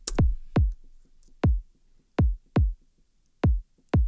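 Electronic kick drum playing a two-step garage rhythm at 120 BPM, deep punchy thumps in an uneven syncopated pattern, loud and dry with no other instruments or voices.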